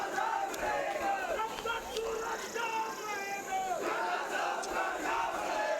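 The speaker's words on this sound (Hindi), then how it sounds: "तालियों की गड़गड़ाहट को कम ना होने दें" A crowd at an outdoor statue unveiling ceremony in Shimla applauds and cheers, loud, continuous clapping and shouting mixed with a voice on a public address system over the noise.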